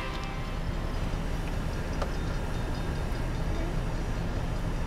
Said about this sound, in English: Oh, it's not a little train. It's like a worker train, Matia.